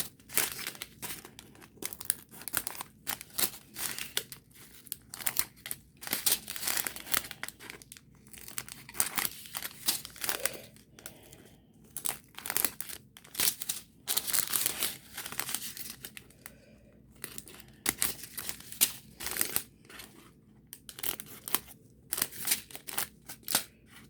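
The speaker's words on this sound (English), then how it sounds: "So we're going to cut all these bags separate." Plastic bags from a Fansell Crystal Mandela kit are cut apart with scissors, giving dense, continuous crinkling and snipping close to the mic, with short rustling bursts over about twenty seconds and no talking.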